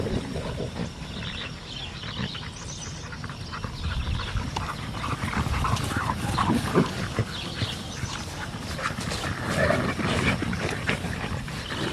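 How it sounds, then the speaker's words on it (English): Dogs at an animal rescue shelter bark, pant and whine in a busy, echoing kennel, several at once, making a constant close noise with no clear talking. "Okay, so the blonde dog with the collar on is Leo."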